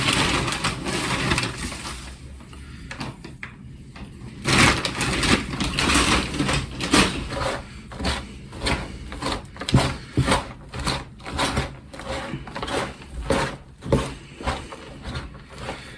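Vermiculite is mixed by hand into shop-bought compost, giving close, crunchy rustling and gritty scraping in irregular bursts that keep going throughout, with no talking.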